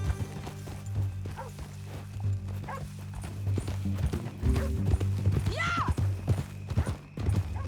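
Hooves of a horse clip-clop steadily at a trot or gallop in the Western video game Red Dead Redemption 2, with a horse whinny, snorts and a rider's shout mixed in over a low ambient hum.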